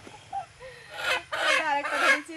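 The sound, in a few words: chickens clucking while being caught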